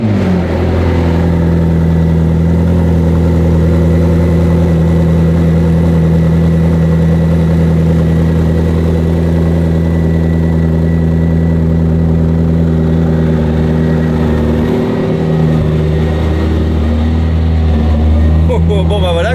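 McLaren P1 GTR race car engine idling loud and close, a deep steady burble holding even for the whole stretch with a small dip near the end.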